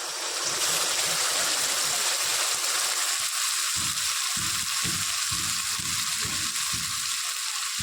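Ground spice paste hits hot oil in a pan, bringing a loud, steady sizzling hiss with irregular low bubbling pops beneath it throughout.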